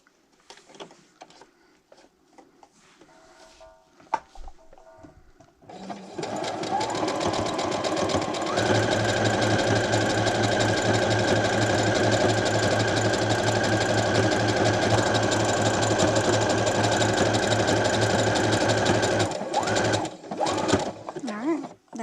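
A sewing machine stitches a zigzag on a hooded towel, a loud continuous rapid whir and clatter lasting about fourteen seconds before it stops, with quiet handling noises at the start and end.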